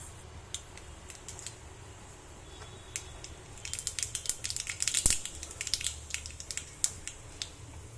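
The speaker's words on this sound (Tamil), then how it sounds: "கடுகு நல்லா பொரிஞ்சிச்சு." Mustard seeds popping and crackling in hot oil in a pan, heard as irregular sharp crackles that build from sparse pops into a denser flurry midway, close and fairly quiet.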